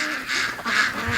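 Free-range ducks rushing out onto dewy grass for their morning run make a loud, overlapping chorus of honking quacks at close range, dense and continuous with a short dip midway.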